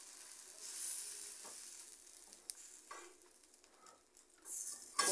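Bread soaked in sauce sizzles as it browns in a hot pan, a steady close frying hiss with a few soft scrapes and light knocks, no voices.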